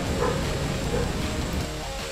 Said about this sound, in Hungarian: Közben a kutyák is drukkolnak a háttérben.